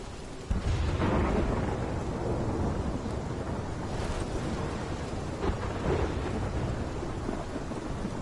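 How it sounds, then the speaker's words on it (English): A thunderstorm rages in the game Life is Strange, rolling thunder booming over steady heavy rain and gusting wind, loud and continuous, with sharper thunder cracks near the start and midway. "This is my storm."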